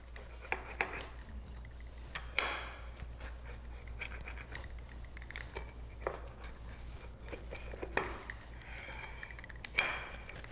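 A knife slicing a pie baked in a wood-fired brick oven into wedges, quiet scraping cuts and crunchy strokes in several separate bursts over a low steady hum.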